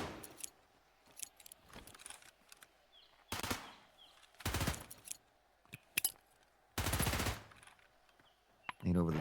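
Bursts of automatic gunfire ring out in a tournament video game match, several sharp loud volleys spaced a second or two apart, with a caster talking over them between the shots.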